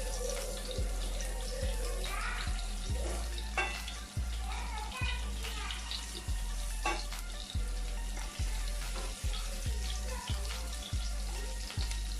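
Ingredients for paneer butter masala sizzle and fry in a pan, a steady crackling hiss broken by regular thumps and scrapes of stirring, with a running-water sound mixed in close by.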